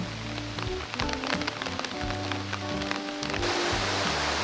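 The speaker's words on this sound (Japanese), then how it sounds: "そこそこ雨が降ってます。" Moderate rain falls in a steady hiss by a river, with soft droplet patter and background music playing throughout.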